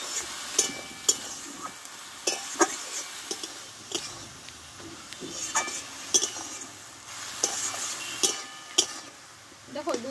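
Chickpea leaf greens are stir-fried in a pan for a vegetarian Bengali dish: a steady soft sizzle runs under repeated scraping stirs and occasional light clinks of utensil on metal, close and moderately loud, with no speech.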